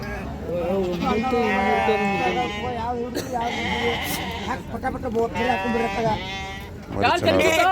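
Sheep and lambs bleat loudly and repeatedly at the crowded Amingad sheep and goat market in Karnataka, with people talking throughout among the animals.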